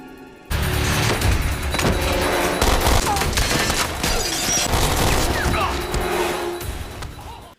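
Gunfire shootout in a film scene at a fast-food restaurant, with dense bursts of rapid shots and crashes filling the whole stretch, loud and continuous, with some voices mixed in.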